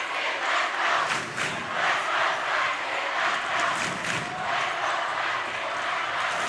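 A home crowd cheers on the Sikeston High School Bulldogs at a high school basketball game, a loud sustained roar in a gym with rhythmic swells of shouting, no clear talk above it.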